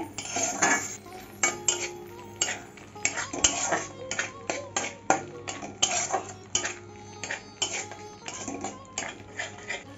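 Rui fish in poppy-seed masala stirred repeatedly in a pan so it won't stick, a spoon scraping and clinking against the metal in quick, uneven strokes, close and moderately loud throughout.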